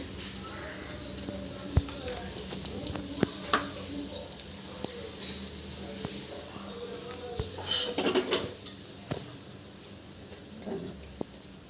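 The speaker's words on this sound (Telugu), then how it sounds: "చక్కగా అలా కాలుతుంది దోశ మీద ఆయిల్ పోసుకోండి" Bombay rava dosa frying in oil on a pan gives a steady close sizzle, broken by scattered sharp clicks and taps of a utensil. A voice talks over it.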